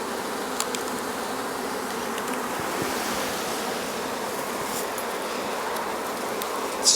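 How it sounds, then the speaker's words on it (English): Honey bees swarming during a nuc transfer into a hive, a dense continuous buzz heard close and steady, with a few faint knocks of equipment. "So many bees"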